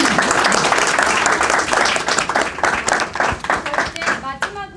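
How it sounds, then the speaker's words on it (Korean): An audience applauds loudly and steadily at a forum on Trump-era trade and tariffs, dense clapping filling the whole stretch before thinning near the end as a voice comes in. "저희 박수 크게 한번 쳐주시겠어요?"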